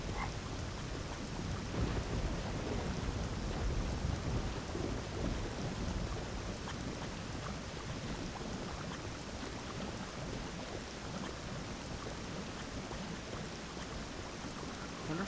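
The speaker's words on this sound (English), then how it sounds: "Now we have this shitty rain." Steady rain pours in Morrowind, with a dense wash of falling water and a low rumbling undertone like distant thunder, continuous and even throughout with no talk.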